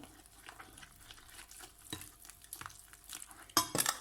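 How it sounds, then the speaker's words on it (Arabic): Brioche dough mixture worked with a mixer gives a continuous, soft, rhythmic scraping and churning in a bowl, close and fairly quiet, with a couple of louder knocks near the end. "نخلطوا دابا بالخلاط حتى كتقصح لينا العجينه الخليط"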